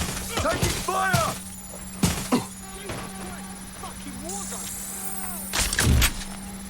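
Gunfire in the Watch Dogs Legion video game, several sharp shots scattered across the moment, mixed with game effects and a steady background hum while voices talk over it.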